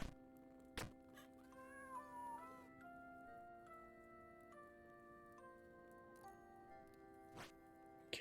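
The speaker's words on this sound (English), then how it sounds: "So far, I've only noticed cat noises." Cat meows from the Jump King video game on Switch sound over layered game music and chimes, with several short tonal cries and a couple of sharp thunks; no one speaks.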